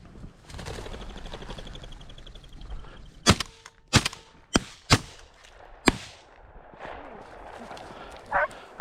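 Shotgun blasts during a pheasant hunt at Big R Bird Ranch: about five sharp, loud, close reports fire in quick succession, roughly a second apart, with people talking outdoors before and after the volley.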